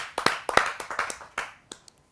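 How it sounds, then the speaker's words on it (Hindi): Audience at a kavi sammelan poetry gathering clapping to welcome a poet, a short burst of sharp, uneven claps from a small crowd that thins out into a few scattered final claps. "आइए जोरदार तालियों से हम उनका स्वागत करते हैं।"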